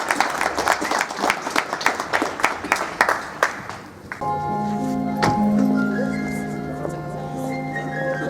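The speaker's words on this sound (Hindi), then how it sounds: "तो उनकी सोच के लिए एक बार फिर से तालियां बजाएं" An audience at a program claps, a run of loud distinct hand claps tapering off after a few seconds, followed by sustained musical tones with a few scattered claps.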